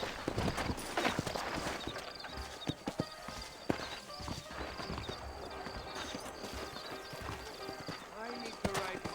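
Horse hooves clip-clop at a walking pace in the Red Dead Redemption video game, set among the horse sellers of New Orleans. The steps run steadily and close, with snorts and speech in the background.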